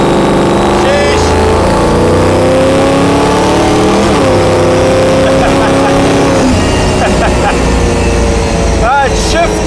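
A 1967 Mustang Fastback restomod with an 800-horsepower engine revs hard at full throttle, its loud roar climbing in pitch with a quick shift partway through, while voices talk over it.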